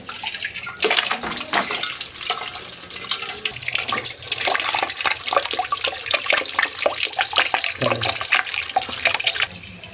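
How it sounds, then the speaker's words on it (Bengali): A clay handi pot is washed under running water in a kitchen while chicken is prepared: a continuous splashing, gurgling stream with uneven spatters, steady and close throughout. "তো এটা ভালো করে ধুয়ে নিই"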